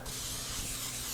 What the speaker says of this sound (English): what I'm going to do is just spray the bottom of that